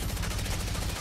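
Rapid gunfire from Apex Legends, likely the Devotion energy LMG in a team fight in Season 15, sounds as dense, continuous rattling shots, loud and close throughout with no pauses.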